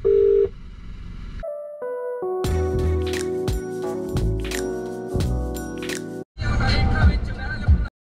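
An outgoing phone call rings on without anyone answering. Short electronic tones step through a melodic ringback pattern, then a brief break is followed by a noisy burst of sound.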